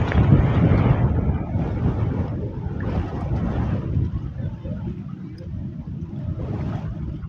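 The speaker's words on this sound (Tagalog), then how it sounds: "Lakas ng hangin, di ko matansya." Strong wind buffets the microphone in a continuous loud rumbling roar while fishing at Angono, Rizal, with faint water sounds beneath.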